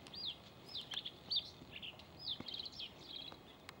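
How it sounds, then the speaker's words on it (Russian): A bluethroat (Luscinia svecica) sings a string of short, high, varied chirps and trills in quick bursts, thin and moderately distant over faint background hiss. "Варакушка или шведский соловей."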